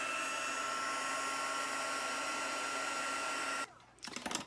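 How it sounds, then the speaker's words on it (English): Heat embossing tool blowing steadily over embossing powder on a handmade Valentine's card, a constant close whooshing roar for most of the clip before it cuts off into a brief handling rustle. "I've got my heat tool, so let's go ahead and emboss this"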